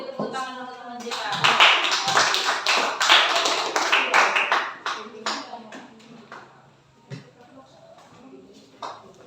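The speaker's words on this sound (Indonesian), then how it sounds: "Tepuk tangan untuk teman kita" Classroom applause from students for a presenting group, a burst of quick hand claps that swells, then thins out to scattered taps, with voices audible in the room.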